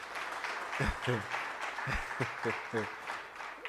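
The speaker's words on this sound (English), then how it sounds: "Let's give her a round of applause." Seminar audience applauding a postdoctoral fellow speaker, a steady wash of many hands clapping at moderate level, with a few low thumps and brief murmured voices underneath.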